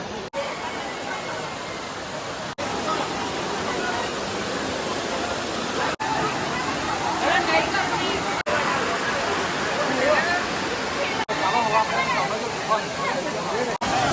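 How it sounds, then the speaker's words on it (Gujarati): Hathni Mata Waterfall in Gujarat roars in a continuous, dense rush of falling water, with people talking and a crowd murmuring over it. "વોટરફોલ જુઓ કેટલો ગજબનો અહીંયા પડી રહ્યો છે"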